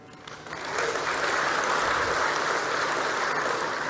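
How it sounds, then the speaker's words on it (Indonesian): A large crowd at a formal public event breaks into applause, building quickly over the first second into a loud, dense, sustained clapping that holds steady to the end with no voices. "Ini yang harus kita tepuk tangani."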